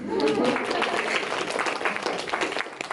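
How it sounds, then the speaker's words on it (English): Applause from a student Toastmasters audience after a speech, a moderate crowd clapping steadily with a few louder individual claps near the start. "Can I have some applause, please?"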